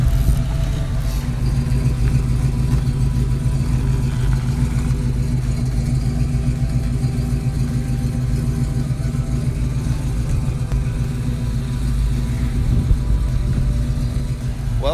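A four-eye Ford Fox Body Mustang's engine runs close by with a loud, steady, throaty rumble that holds for fifteen seconds; no one talks.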